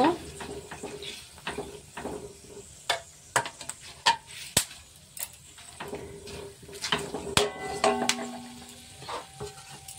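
Black peppercorns and whole spices are stirred in a pan, giving a light sizzle under scattered scraping and clinking utensil hits in uneven bursts, with a voice in the background.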